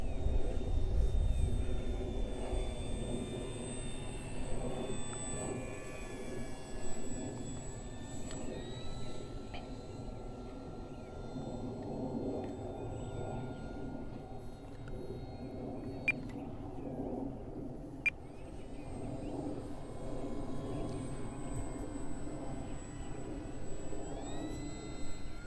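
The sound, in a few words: large RC Arrows Bigfoot model airplane flying, slowing down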